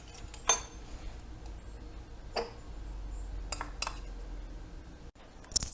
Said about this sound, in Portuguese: Agora eu vou mexer e vou trazer o meu leite pra cá